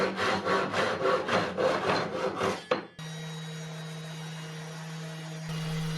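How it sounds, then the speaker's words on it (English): A handsaw cuts through the bottom of a wooden chair back panel in quick, steady rasping strokes that stop halfway, leaving a low mains hum. "I nipped the horns off the bottom of the back panel with the handsaw."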